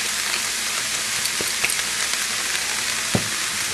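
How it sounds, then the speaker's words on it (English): Garlic sizzles steadily in a frying pan for kasha, a dense crackling hiss with a few brief sharper pops, close and alone without talk. "we're going to add some garlic to it"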